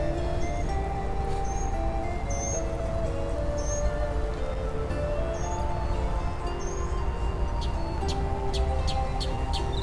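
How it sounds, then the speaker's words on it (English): Birds chirp and sing repeatedly outdoors, short tweets scattered over a steady hiss, moderately distant and without any talk. "listen to the sound of the birds"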